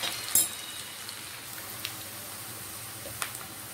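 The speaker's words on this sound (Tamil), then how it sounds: "வெங்காயம் நல்லா பொரிஞ்சிச்சு." Onions fried golden in a pan for a pithukku paruppu kulambu give a quiet, rain-like steady hiss, with a sharp clink near the start and a few scattered pops.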